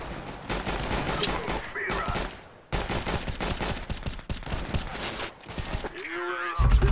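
Rapid bursts of gunfire from the video game Counter-Strike: Global Offensive, sustained volleys filling most of the stretch with a brief gap, with talk faintly mixed in.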